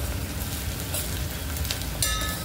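Onion frying in oil for methi khichdi, a soft steady sizzle with a low background rumble and a couple of brighter crackling bursts.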